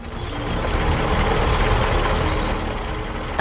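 A cartoon tractor engine runs steadily on a farm field, a continuous low rumbling drone with an even, unbroken tone and no voices over it.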